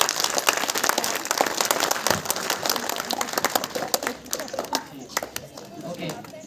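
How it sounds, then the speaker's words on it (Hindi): Audience applause at a Christmas gathering, a dense patter of many hands clapping that gradually thins and fades. "जोरदार ताली बजा दीजिए."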